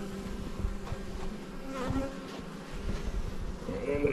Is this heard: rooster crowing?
no